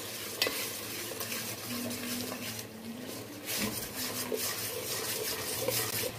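Spice paste with coriander powder and Kashmiri chilli stir-fried in a pan for tomato pulao: a steady close sizzle with scraping spoon strokes against the metal, continuous and alone.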